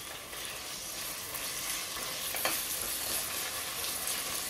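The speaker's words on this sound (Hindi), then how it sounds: "तो अब इसे हमने फ्राई करना है।" Chicken mince fries in a pan with a dense, steady sizzle and crackle, and a spoon stirs it now and then, close up with no talking.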